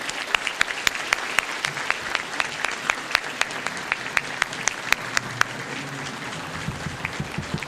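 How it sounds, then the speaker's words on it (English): A banquet crowd at a memorial award event applauds finalists and winners with steady clapping, some sharp individual claps standing out near the front, tapering slightly toward the end. "please give them another round of applause"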